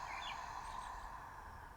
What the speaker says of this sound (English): Y'all hear this bird meditating with us?